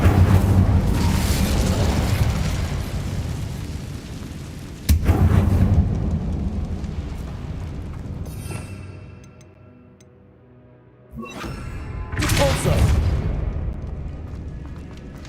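Incendio fire spells blasting in Hogwarts Legacy, heavy booming bursts that roar and rumble before fading, with a quieter lull then another loud fiery eruption near the end.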